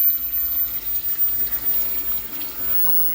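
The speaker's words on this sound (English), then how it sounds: "Clean the sponges off, wash the brushes out." Running tap water flows steadily while aquarium filter sponges are cleaned and brushes washed, a close, continuous wash with small fluctuations and a slight drop near the end.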